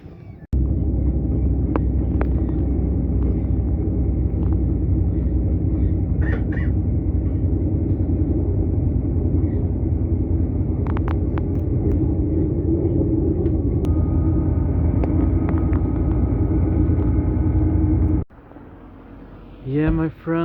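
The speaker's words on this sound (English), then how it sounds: "Alright, the train is here." A train pulling into Sunne station in Sweden, a steady loud low rumble and hum of the arriving train with faint squeaks, dropping off abruptly near the end as a voice briefly begins.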